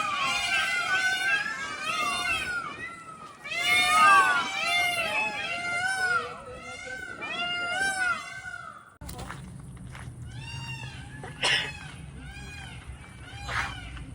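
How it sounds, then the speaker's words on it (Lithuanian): Several cats meow over one another in rising, overlapping cries, close and insistent, in the town of Rhodes. Later a few scattered meows sound over a low background hum. "Ir visur kniaukia."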